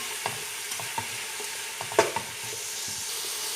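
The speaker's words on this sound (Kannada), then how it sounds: "ಇದನ್ನು ಕೂಡ ಹಾಗೆ ಸ್ವಲ್ಪ ಫ್ರೈ ಮಾಡಬೇಕು, ಹಸಿ ಸ್ಮೆಲ್ ಹೋಗೋ ತನಕ." Pepper and capsicum frying briefly in a pan for egg fried rice, a steady soft sizzle with scattered spatula scrapes and one sharper clink near the middle, no voices.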